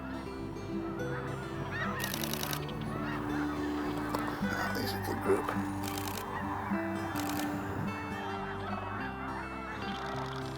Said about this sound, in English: Here comes the perfect crane, perfectly lit.